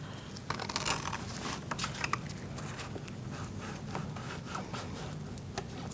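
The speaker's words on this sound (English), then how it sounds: "I'm going to use my pliers and put the hose clamp back where it goes." Pliers scrape and rub against a hose clamp on the radiator hose of a 2000-2006 Mini Cooper 1.6L four-cylinder, giving close, continuous gritty scuffing with scattered small clicks.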